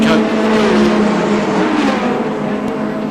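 Touring race cars at the 1984 Castrol 500 at Sandown, Victoria roar past at close range, engines revving loud and sustained as they sweep by, with a commentator talking over the noise.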